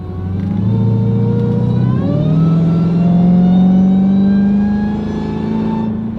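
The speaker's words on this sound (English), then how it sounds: "that supercharger sounds good" A supercharged Dodge Hellcat V8 with a Legmaker intake revs up loud and close, its pitch climbing steadily into a sustained high whine that holds for several seconds, heard from inside the car with the windows closed.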